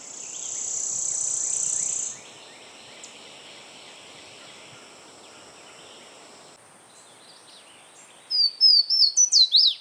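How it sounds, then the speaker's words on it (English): Singing on territory on the upper Texas coast, a worm-eating warbler gives a dry, rapid trill that shifts pitch, after a steady insect-like buzz. A short burst of repeated chips ends the sequence. "We were fortunate to get great views of this worm-eating warbler singing on territory."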